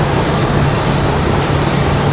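An airplane arriving from Stuart, Florida at Raleigh Durham airport makes a loud, steady engine roar with a low droning hum throughout the brief stretch.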